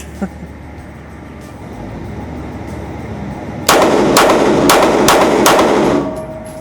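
Shots from a Staccato 2011 handgun ring out nearby, five sharp cracks in quick succession after a quiet stretch of outdoor range ambience.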